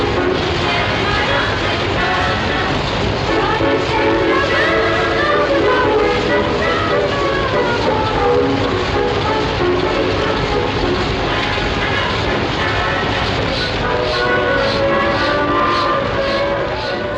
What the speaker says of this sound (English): You can hear their voices faintly over the thrum of machines in the radio.